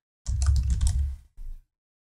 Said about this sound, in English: So again, I just started typing Jackson.